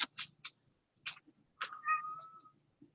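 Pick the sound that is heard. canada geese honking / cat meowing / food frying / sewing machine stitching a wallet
cat meowing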